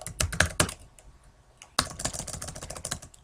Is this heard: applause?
no